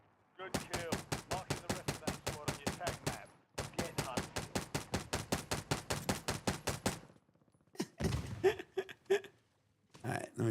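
Full-auto gunfire in a video game: two long, rapid, evenly spaced bursts separated by a short pause, then a few scattered shots and sharp impacts, loud and close.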